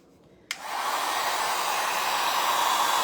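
A dryer clicks on and then blows steadily and loudly at close range, drying coats of paint on a wooden pull-toy duck, with its constant whooshing hum continuing without a break.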